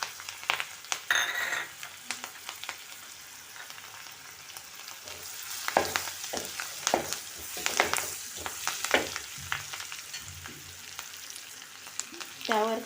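Slit green chillies, ginger and garlic fry in a pan for tawa pulao, a continuous sizzle broken by repeated scraping stirs and occasional clinks of a spatula against the metal, close and fairly loud.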